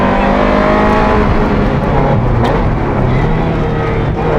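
Ferrari F355 Challenge race car driven on an open road, its engine revving high in a loud, sustained, close wail with shifting pitch and no speech over it.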